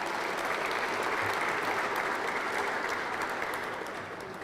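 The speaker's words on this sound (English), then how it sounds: "Let's give them a round of applause if you don't mind." An audience at a Little Rock Touchdown Club press conference gives sustained applause for the sponsor Simmons, a dense even wash of clapping that thins out near the end.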